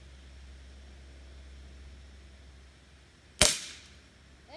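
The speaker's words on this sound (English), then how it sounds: "Both of these guns I've been shooting are air rifles." An air rifle pellet strikes a metal swing target once with a sharp, loud metallic crack and short ringing tail after about three seconds of quiet outdoor hiss; no talking.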